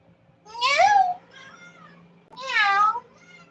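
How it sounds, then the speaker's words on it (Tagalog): Two clear, close meows from a cat named Princess, the second slightly longer, separated by a short pause with faint background murmur. "Meow."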